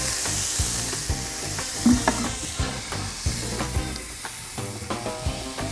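Marinated beef skewers sizzle and crackle steadily in a Gozney Roccbox oven, with sharp pops and clicks over a continuous frying hiss.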